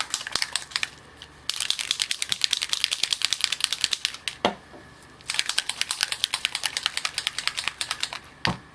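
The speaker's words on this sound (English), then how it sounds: "Get those shook up until we hear the ball rattle." A mixing ball rattles rapidly inside a shaken paint bottle in two long bursts of quick, even clicks, close up with brief pauses between.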